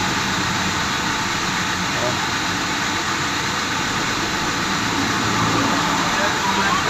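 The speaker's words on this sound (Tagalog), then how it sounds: "Nangangatal yung makina niya." A Toyota Camry engine idles at low RPM with a misfire, giving a steady, rough, broadband rumble with faint unevenness, close and constant throughout.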